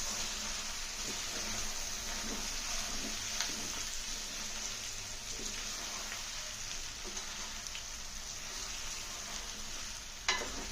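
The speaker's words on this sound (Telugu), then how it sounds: "జీడిపప్పులు వేద్దాం వేసేసి గరిటి పెట్టి తీర్చుదాము" Cashews being stirred with a ladle into a sizzling mutton masala in a pan, a steady hiss of frying with soft scraping and clinks now and then, ending in a sharper knock.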